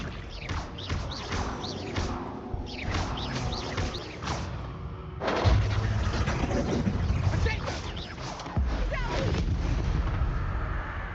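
Spell explosions burst in the video game Hogwarts Legacy, booming blasts with rumbling low-end, one heavy impact around the middle and another near the end over a dense game soundtrack.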